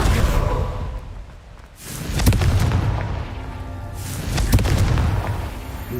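Confringo blasting curse in Hogwarts Legacy, heavy booming explosions with rumbling whooshes, two or three big blasts rolling into each other, loud and close, with a brief spoken spell line overlaid.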